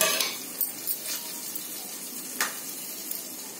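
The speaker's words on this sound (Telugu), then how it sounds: "కొంచెం కొత్తిమీర కూడా వేస్తున్నా. కొత్తిమీర వేసుకొని కలుపుకోవాలి." Coriander leaves being stirred into a pan of tempering for red rice poha upma, soft scrapes and clinks of a spoon against the pan over a faint low sizzle, fairly quiet and close.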